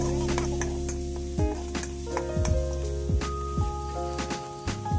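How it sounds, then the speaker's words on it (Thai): Minced garlic sizzles in a little hot oil while being stir-fried, a steady close frying hiss broken by several scraping stirring strokes, with no voices. "จากนั้นก็ใส่กระเทียมสับลงไปนะครับ เราผัดกระเทียมให้หอมนะครับ"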